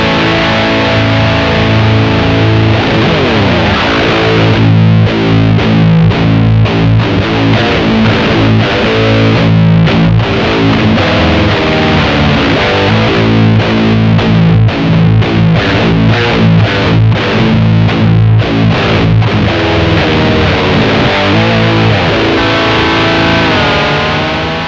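Electric guitar driven through a Frost Giant Architect of Reality distortion pedal into a Laney AOR50 amp, with thick saturated chords and fast choppy riffing that stay loud and dense throughout, with no talking.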